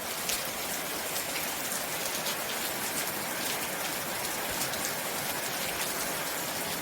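Heavy rain pouring down steadily during a monsoon downpour, a dense, continuous hiss of drops striking surfaces that stays loud and even throughout with no voices.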